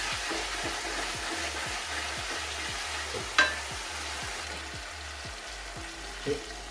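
Chilli chicken sizzles steadily in a hot pan while a spoon stirs it in regular scraping strokes, the soft frying hiss constant throughout with a couple of sharper knocks against the pan.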